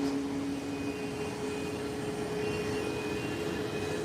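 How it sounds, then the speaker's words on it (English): An American Airlines jet rolls down an airport runway on its takeoff run toward Charlotte. Its engines give a steady, loud, broadband roar that holds for several seconds, heard from nearby outdoors with no talk. "It's coming by us now. You can hear the roar of the engine."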